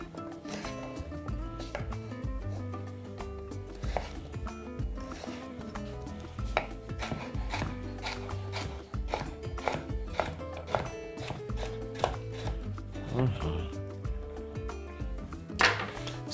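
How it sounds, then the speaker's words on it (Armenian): Carrots being chopped into small cubes on a board: a quick, irregular series of close knife taps that runs throughout over a soft background. "Սա էլ կտրատում ենք մանր խորանարդիկների։"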